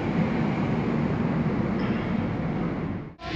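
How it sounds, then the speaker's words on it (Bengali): A passenger train rumbles steadily as it pulls out of a station in West Bengal, a loud continuous broadband roar that holds constant before cutting off abruptly near the end. "আমাদের ট্রেন ছেড়ে দেবে, ওখানে সিগন্যাল দিয়ে দিয়েছে।"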